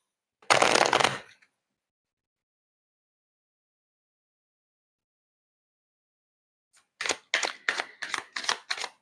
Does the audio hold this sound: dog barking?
no